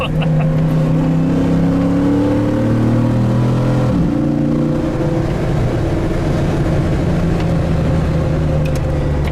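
A Jeep JK fitted with a 500 HP HEMI engine drives along, its loud, close engine note climbing in pitch, dipping briefly as it shifts, then pulling on with a continuous deep roar and no talk.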